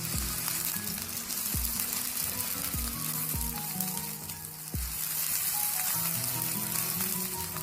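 Finely chopped medium onion lightly frying in hot oil in a kadai for achari gosht, a steady close sizzle with a few soft stirring knocks, no voices.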